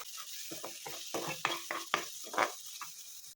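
Masala frying in oil in a pan for a mushroom gravy, with a steady sizzle broken by a quick series of scraping stirs, close and fairly quiet, with no talking.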